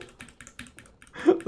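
Computer keyboard keys clatter in quick, irregular taps, close and fairly soft, ending in a brief louder rustle.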